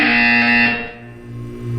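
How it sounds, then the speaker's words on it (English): A loud, harsh electronic buzzer from the video game Portal 2 blares steadily for almost two seconds, alone. "You will hear a buzzer."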